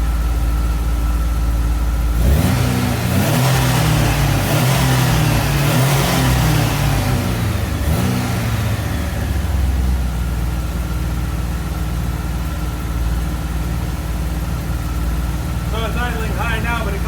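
A car's engine idles at a low speed, then revs loudly in several bursts before settling back to a steady idle after its idle speed is raised from about 500 rpm toward 800 to 1,000 rpm.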